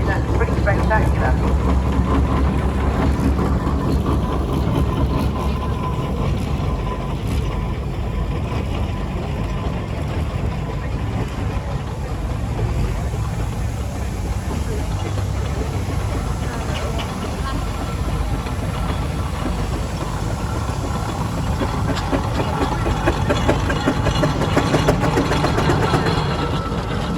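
A Sentinel steam lorry runs in the show arena at the Broyle country show near Ringmer, East Sussex, giving a steady, loud low engine rumble throughout with a continuous mechanical churn and a voice talking over it.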